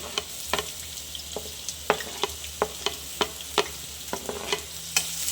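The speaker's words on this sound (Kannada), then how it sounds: "ಈಗ ಹೆಚ್ಚಿಟ್ಕೊಂಡಿರೋ ಈರುಳ್ಳಿ ಹಾಕೋತಾ ಇದ್ದೀನಿ" Chopped onions frying in hot oil in a pan as tempering for an egg gravy, with a steady sizzle broken by repeated sharp clinks and scrapes of a spoon stirring, close up and with no talking.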